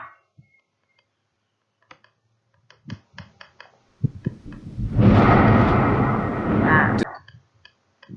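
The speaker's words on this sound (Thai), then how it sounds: "เสียงของฟ้าร้องใช่ไหมคะ" Thunder rolls in as a heavy, rumbling roar for about three seconds after a few faint ticks and soft noises, then dies away to quiet.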